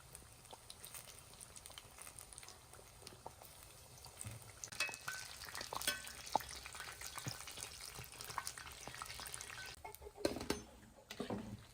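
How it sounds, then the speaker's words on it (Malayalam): Batter-dipped banana fritters (pazhampori) frying in a pan of hot oil, giving a steady close sizzle with bubbling crackle that swells midway, alone without talk. "മാവില് മുക്കിയിട്ട് പഴംപൊരി എണ്ണ ചട്ടിക്ക് ഇട്ട് കൊടുക്കാം"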